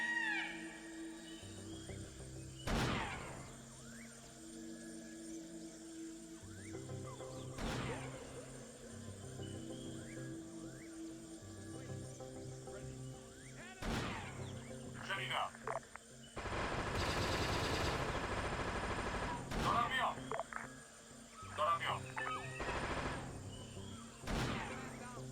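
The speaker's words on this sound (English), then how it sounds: "let's do, suppressive fire into that" Suppressive gunfire in a video game, sharp gunshots landing every few seconds and a dense burst of rapid fire midway, over a low game soundscape with occasional talk.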